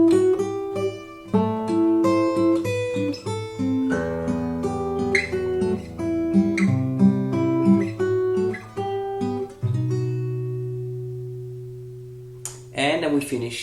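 A guitar plays a melody in sixths drawn from the E harmonic minor scale on a different string set, clean plucked paired notes moving stepwise, closing on a long ringing low chord before a brief noise at the end.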